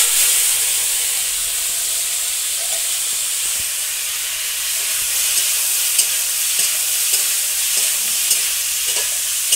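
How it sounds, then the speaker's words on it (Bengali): Spiny gourd (kakrol) frying in hot oil in a village kitchen, a loud, steady hissing sizzle with occasional faint pops and spatters, close and unbroken. "তেলটা গরম হয়ে গেছে, কাঁকড়গুলো দিয়ে দিলাম।"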